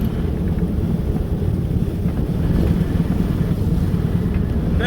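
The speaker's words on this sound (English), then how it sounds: "Wind's up at 31 knots now." Strong wind of 31 to 32 knots roars steadily over a sailboat at sea between Arbroath and Tayport, a constant loud low rumble of gusts buffeting the microphone with water and hull noise beneath, no voices.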